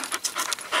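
A puppy panting close by in a garage where a 150cc go kart's rear axle sits on jack stands: quick, breathy rhythmic huffs, fairly soft, with no talking.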